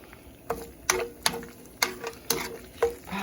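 Onions frying in plenty of oil in a skillet, with a soft sizzle broken by a run of regular, sharp scraping or tapping strokes from a utensil, close up.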